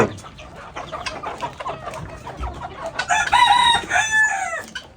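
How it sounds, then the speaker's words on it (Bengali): The largest white rooster on a farm clucks and calls briefly, then lets out one loud, drawn-out crow near the end, close by with background bird and farm noise. "এটা কি মুরগি এটা পুরুষ মুরগি না পুরুষ মোরগ"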